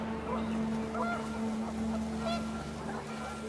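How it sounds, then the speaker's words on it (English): Panicked geese honking in What Remains of Edith Finch, a cluster of close, agitated honks over a steady low hum and wind, faint and continuous throughout. "panicked geese appeared and quickly went"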